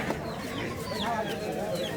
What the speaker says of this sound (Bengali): এই যে এখানে দেখতে পাচ্ছি কিছু দেশি মোরগ এবং মুরগির বাচ্চা